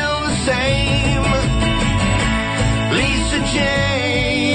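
A dense, loud band recording with full instrumentation and sustained harmonic layers, continuous throughout and no talk.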